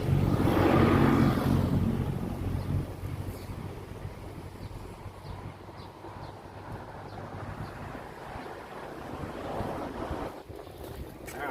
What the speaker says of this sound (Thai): มาพร้อมกับลมด้วย ลมเริ่มมาแล้ว